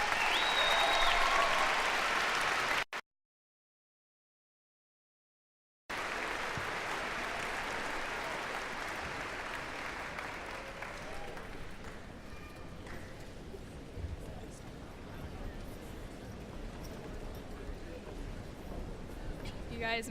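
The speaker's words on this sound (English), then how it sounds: "Please give these people a round of applause." Applause from a high school graduation audience rolls on for a long stretch after a brief silent gap, a broad, crowded clapping that gradually thins and softens toward the end, with faint voices mixed in.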